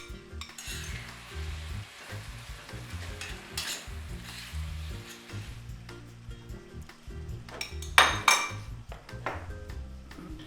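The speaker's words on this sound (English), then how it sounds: "She gives everything a good stir and adds around 250 grams of halved cherry tomatoes." Onions, capers and halved cherry tomatoes sizzle steadily in a pan while a utensil stirs and scrapes through them, with a louder clatter of metal against the pan near the end; no voices, close and continuous.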